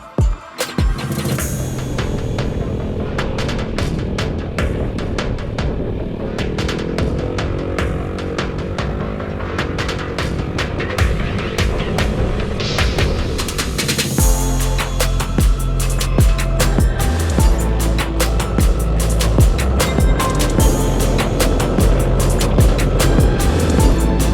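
Honda Ruckus scooters ride over gravel, their small engines droning steadily with wind buffeting and crunching, rattling bursts that grow harsher midway through the long recording.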